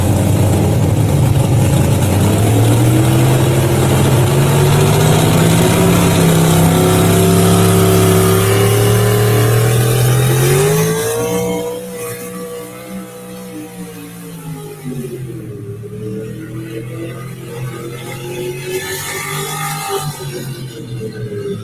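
The Hog Waller pulling truck's engine revs loudly and holds high, with pitch rising and falling, then drops to a rough, throbbing idle with a few lighter blips; close and powerful, no voices.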